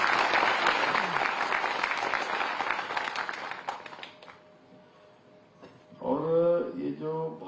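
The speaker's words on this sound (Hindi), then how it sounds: "एक बार इन सब बच्चों के लिए ताली बजा" An audience claps for children at a school event, a burst of applause lasting about four seconds that fades out, followed by someone speaking.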